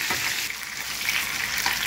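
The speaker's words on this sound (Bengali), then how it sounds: "এখানে বেগুনটা ফ্রাই হচ্ছে, দুটো একসাথে করছি তাড়াতাড়ি হবে বলে" Eggplant and fish fry together in hot oil in a kadai, a steady close crackling sizzle that holds evenly for a couple of seconds without speech.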